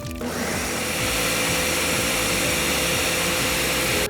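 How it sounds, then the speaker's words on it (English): A countertop blender runs steadily at high speed, whirring and grinding birria taco sauce ingredients, loud and continuous from start to finish with a pulsing low-end churn and no talk over it. "So next I'm gonna take all this and put it in my blender"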